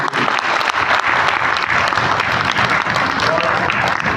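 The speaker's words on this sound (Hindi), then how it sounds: "तो एक बार शानदार ताली आप लोगों के लिए होगी" A packed audience at an MI Lifestyle training session in Delhi NCR breaks into loud, steady applause, with thick continuous clapping running through the whole stretch and faint crowd voices mixed in.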